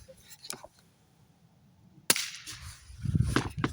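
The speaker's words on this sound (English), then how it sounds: "really all you're hearing is the firing pin" A Diligent Defense Road Hunter round is fired into dirt, its report mostly a firing pin snap: one sharp crack midway with a softer click earlier, then talking follows.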